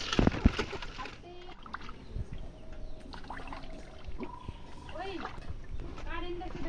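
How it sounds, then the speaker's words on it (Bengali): Fish being washed by hand in water, with repeated small splashes and sloshing close by, while someone talks over it and other household voices and clatter sound in the background. "আমি এদিকে মাছটা ধুয়ে দিচ্ছি মাকে"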